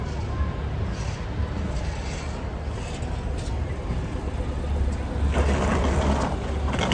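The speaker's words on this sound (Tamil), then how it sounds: "ஸோ அந்த ப்ரொடெஸ்ட்னால இந்த ரோடு ஃபுல்லாக பிளாக் ஆகி டிராஃபிக்கில் நிற்குது." Steady road traffic noise on a Dublin street blocked by a protest march, a constant low rumble of idling and creeping vehicles with a louder swell near the end.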